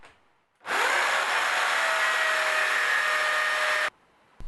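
A power drill whines steadily at high speed for about three seconds drilling into a ceiling, close by, starting and stopping abruptly.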